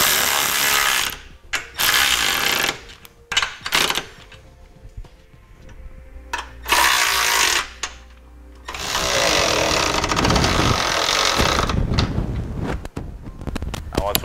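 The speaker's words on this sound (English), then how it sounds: "as we tighten down the U-bolt," A hand ratchet tightens a U-bolt on a Draw-Tite Sportframe trailer hitch receiver for a 2015 Honda, giving close, loud bursts of rapid clicking that start and stop, with a longer run of clicks toward the end.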